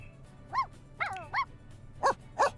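A dog barks in The Sims 4 Cats and Dogs, five short, clear, high-pitched barks spaced irregularly over a quiet background.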